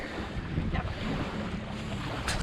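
Strong wind blowing over a lake buffets the microphone in a continuous rough rush, with faint lake-water sounds mixed underneath and no voices.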